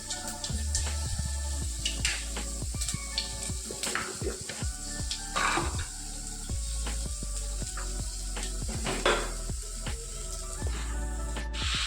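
Panch phoron spices crackle and sizzle softly in hot oil in a home kitchen, a faint continuous hiss dotted with irregular ticks, pops and utensil clinks close by.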